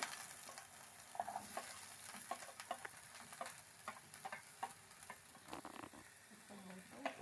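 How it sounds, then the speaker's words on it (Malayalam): Steady sizzling of onions frying in hot coconut oil in a pan, with occasional stirring clicks and scrapes throughout, close and continuous. "നമ്മൾ സവാള അതിലേക്ക് ഇടുകയാണ്. ചട്ടി ചൂടായി, വെളിച്ചെണ്ണ ചൂടായി."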